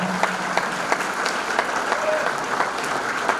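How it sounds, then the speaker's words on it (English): An audience at a sports hall of fame ceremony applauds, scattered claps popping over a hum of room noise, moderately distant and fairly soft. "Give them a big round of applause."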